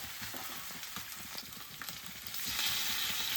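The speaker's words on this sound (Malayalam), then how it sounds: "വലിയ തവയായതുകൊണ്ട് നമുക്ക് ഒന്നിച്ചങ്ങ് പൊരിച്ചെടുക്കാം കേട്ടോ" Fish fry on a large tawa with a dense, crackling sizzle of hot oil, close and steady, swelling slightly louder toward the end, no one talking.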